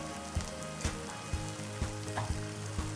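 Garam masala, coriander powder, turmeric, Kashmiri red chili and black pepper frying in hot oil in a pan for paneer tikka masala, a steady close sizzle with regular soft scraping stirs, no talking.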